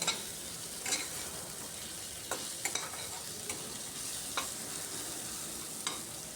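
Onions fry in a pan for a Bengali egg dish, giving a continuous moderate sizzle with occasional sharp spatula scrapes spaced a second or so apart, and no voices.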